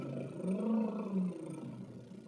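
A vocal coach demonstrates a lip trill, lips buzzing like a motor in a brief voiced rumble that rises and falls in pitch for about a second before trailing off, close and fairly quiet, with the voice imitating a motor.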